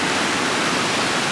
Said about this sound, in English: The water going over a tree laying in the river?